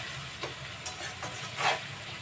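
Onions fry in a pan for an egg curry, with a soft steady sizzle broken by a few sparse utensil scrapes, fairly quiet and with no one talking.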